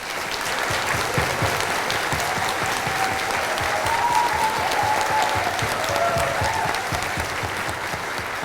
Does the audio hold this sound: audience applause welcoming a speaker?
yes